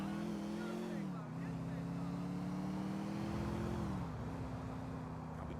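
A car engine in GTA IV drones steadily and loud throughout, its pitch rising and dipping slightly as the vehicle drives on, with no voices over it.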